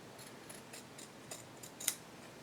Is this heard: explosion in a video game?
no